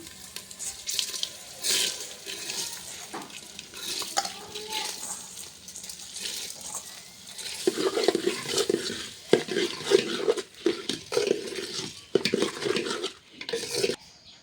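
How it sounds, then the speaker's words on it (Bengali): Washed lentils and rice go into a pot for khichuri, with wet pouring, watery splashes and repeated scraping and stirring against the metal pot, close and irregular throughout. "ধুয়ে রাখা ডাল আর চাল দিয়ে দেবো।"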